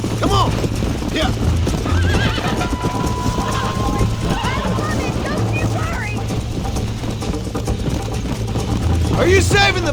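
Horse galloping in Red Dead Redemption on PC, steady hoofbeats pounding under repeated loud neighs, with a player talking excitedly over the race.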